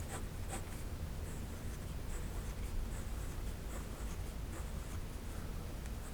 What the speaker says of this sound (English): this is the medium nib. Okay, and let's just put down some lines